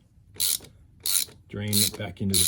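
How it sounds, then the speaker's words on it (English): A ratchet wrench with a 27 mm socket cranks loose the oil filter housing cap on a Jeep Grand Cherokee WK2 3.0L EcoDiesel: several short, sharp clicking ratchet strokes close by, with a grinding turn at the end. "It is a 27 mil socket, and we're just going to break it loose."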